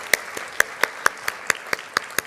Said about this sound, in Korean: 하나님께 다시 한번 영광의 박수를 올려드립시다